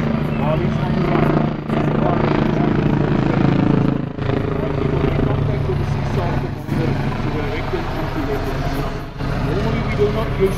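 An Agusta search-and-rescue helicopter flies overhead during a mock combat rescue display at a Waterkloof airbase airshow, its loud continuous rotor and engine roar filling the scene with slight surges, under a commentator speaking over the PA.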